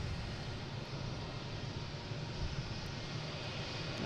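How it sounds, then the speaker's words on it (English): A JetBlue airliner arrives at Boston Logan Airport in windy conditions, heard as a steady broadband engine roar and wind rush that holds at a constant level without any voices. "next one coming in is a JetBlue from Wilmington"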